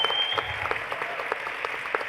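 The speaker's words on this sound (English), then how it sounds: "let's give Steven also a very big round of applause" Audience applause at a startup accelerator expo in Armenia, a steady crowd clapping for a speaker, moderately loud and continuous for a couple of seconds with no talking over it.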